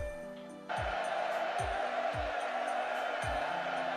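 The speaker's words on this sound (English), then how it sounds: "Listen to the crowd." A large crowd in the Fate/Grand Order video game roars in sustained cheering that swells suddenly and holds steady, with periodic low thumps beneath the noise.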